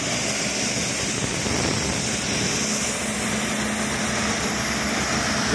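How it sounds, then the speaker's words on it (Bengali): A generator that supplies an air compressor drones steadily and loudly throughout, with a constant low rumble and broad engine noise close by. "এটা হচ্ছে জেনারেটর।"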